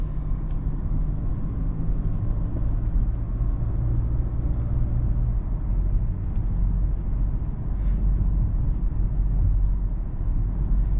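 A car pulls out of a turn during a driver-education drive, its engine heard from inside as a steady low rumble with road noise. The sound is continuous and moderately loud, with no voices over it.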